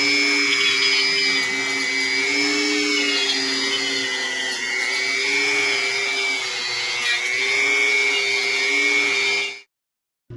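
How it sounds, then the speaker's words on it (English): A small abrasive wheel deburrs the front valance of a 2022 Ford F250 truck, a loud, steady high grinding whine with sustained tones that runs nearly unbroken before cutting off abruptly at the end. "So now we have our little abrasive wheel, and we'll try and deburr all this stuff on this thing."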